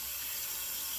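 Tap water runs steadily from a faucet for shaving prep, a continuous close hiss and splash without pause.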